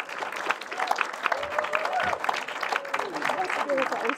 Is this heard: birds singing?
no